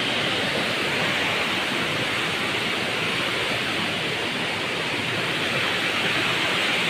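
A waterfall rushes in a steady, loud, broadband roar that stays unchanged and continuous with no voices over it.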